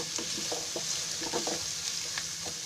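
Chunky vegetable pieces fry in oil over a high gas flame, a loud, even, close sizzle with soft stirring knocks scattered throughout and no talking.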